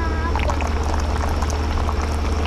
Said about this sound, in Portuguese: então vai colocar água